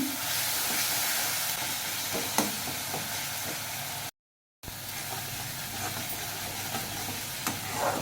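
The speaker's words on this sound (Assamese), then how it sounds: "মছলাটো ভুনা হৈ গ'ল" Masala of cumin and coriander powder, with turmeric and salt, fries in a pan for a fish curry, giving a steady sizzle with scraping stir sounds and a brief moment of silence.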